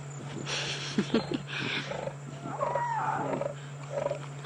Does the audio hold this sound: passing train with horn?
no